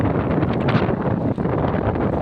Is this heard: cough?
no